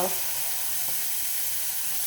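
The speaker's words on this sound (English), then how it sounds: "The water started boiling" Water for pasta boils hard in a cooking pot, giving a loud, continuous bubbling hiss that holds steady throughout, close up and with no talking.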